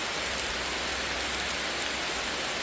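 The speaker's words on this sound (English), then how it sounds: "but that rain is nice and warm" Steady warm rain falling near a bridge, a dense, even hiss of drops on surfaces with no gaps and no voices.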